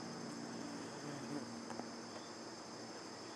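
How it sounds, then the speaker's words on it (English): Stinging insects buzz around close to a feeder outdoors, a steady faint drone throughout. "and they are buzzing around me"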